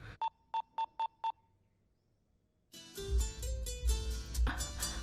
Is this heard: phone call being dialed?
yes